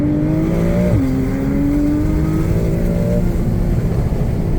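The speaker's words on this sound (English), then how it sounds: "just because I love the sound of the turbos" A Porsche 911 Turbo engine revs loudly and close by, its pitch rising and dipping with a gear change, with a steady turbo whine throughout.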